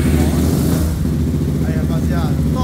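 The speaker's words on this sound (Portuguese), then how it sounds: "o Clebão vai dar uma partida aí pra vocês verem o funcionamento desse motorzão aí" A Twister motorcycle engine bored to 86mm, fitted to a Riva 500R, runs with a steady, loud, close-up mechanical rumble from start to finish.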